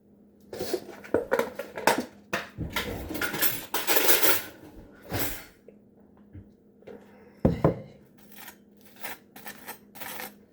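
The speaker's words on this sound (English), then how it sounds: "Time to butter my bread" Knife scraping and clinking as butter is spread on bread, a run of close, scratchy strokes in uneven bursts with pauses, loud and right at hand, no talking over it.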